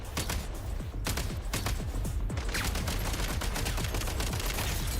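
Dense, sustained gunfire and explosions fill a video game battle, with continuous rapid shots layered over a loud, constant roar and no clear talk.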